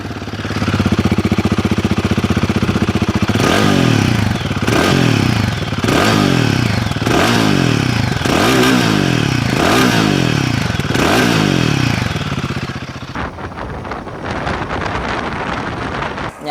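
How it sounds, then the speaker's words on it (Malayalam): A Royal Enfield Guerrilla 450 motorcycle revs repeatedly, its loud exhaust rising and falling in about six sharp blips over a steady idle, close by with wind buffeting the microphone, then settling back to a rumbling idle. "ഇതിൻ്റെ എക്സോസ്റ്റ് നോട്ടൊന്ന് കേൾപ്പിച്ചു തരാം."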